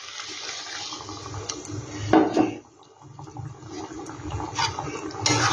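Water poured into a pan while making tangy-spicy-sweet semolina balls in a home kitchen, a steady splashing and running sound that swells briefly in the middle and again at the end, with no talking.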